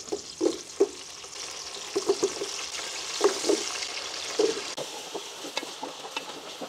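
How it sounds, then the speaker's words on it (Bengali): Potato pieces fry in hot oil in a pan for a tehari-style biryani, giving a continuous soft sizzle broken by several sharp clatters and taps of stirring against the pan. "তারপর তেলটা গরম হয়ে গেলে পেঁয়াজগুলো দিতে হবে।"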